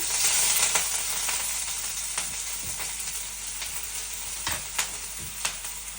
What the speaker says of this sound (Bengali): এখন দিয়ে দিতেছি পেঁয়াজ কুচি